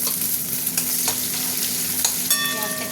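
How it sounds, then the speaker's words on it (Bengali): Onions dropped into hot oil with bay leaf and whole cumin for a potol-aloo curry, a continuous close crackling sizzle with scattered pops and a steady low hum beneath. "এবার পেঁয়াজ দিয়ে দিই,"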